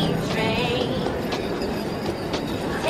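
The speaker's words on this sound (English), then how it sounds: "He's soon interrupted by a mall train with a catchy jingle." A small mall ride-on train rolls past with rhythmic clattering and light squeals, steady and fairly close, while a jingle plays faintly amid crowd noise.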